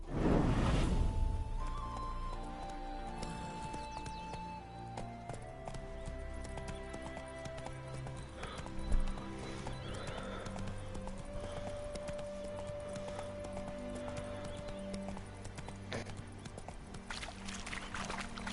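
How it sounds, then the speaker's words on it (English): Steady clip-clop of horse hooves in The Witcher 3: Wild Hunt with a musical background, a brief louder hit midway; no clear whinny stands out. "Spooking my horse."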